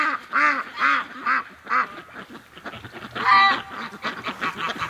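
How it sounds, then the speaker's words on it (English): A crew of ducks, Muscovy among them, quacks loudly nearby in repeated honking bursts, several calls overlapping in an uneven rhythm. "What an awesome crew of ducks we got"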